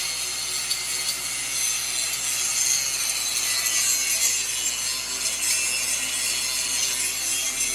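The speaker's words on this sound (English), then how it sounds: "grinding." An old lower control arm bracket on a Mustang is ground off under a continuous, harsh, high-pitched metallic grinding roar that stays loud and close without pause.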